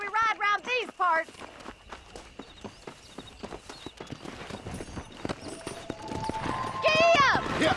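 Horse hoofbeats in the Red Dead Redemption video game: a steady clip-clop of a walking horse, close and distinct, with speech at the start and a voice and music swelling near the end.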